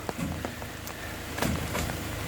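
Rain falls steadily around pickup trucks hauling oil palm, a dense patter with a few sharper drop taps standing out over a low background rumble, and no voices.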